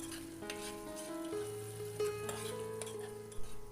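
Onions, cashews and raisins fry in a pan for pulao, giving a soft, steady sizzle with faint stirring scrapes beneath quiet melodic background music.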